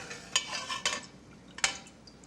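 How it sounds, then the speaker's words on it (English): An old slotted spoon scoops pecans out of a pot, giving a few faint, close clinks and scrapes with a soft rattle against a quiet background and no speech. "I'll just take an old spoon with holes in it and do the same thing that the colander would do"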